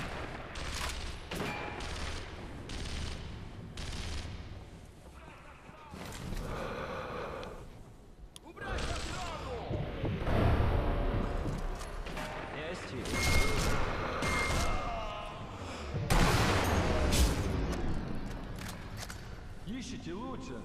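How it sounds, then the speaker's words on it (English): Sniper Elite V2 firefight with rounds coming in from both sides, irregular loud gunshots and short bursts scattered across the scene, mixed with heavy breathing and game voices talking between shots. "I end up with a few rounds being launched towards my head from both sides"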